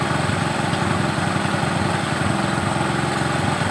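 A small engine idles steadily at close range during carburetor RPM adjustment, a continuous low throbbing drone that stays loud and even with no talk over it.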